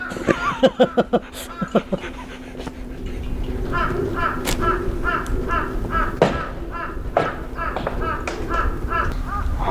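A few sharp taps open, then crows caw repeatedly in a rhythmic run of harsh calls over steady outdoor noise.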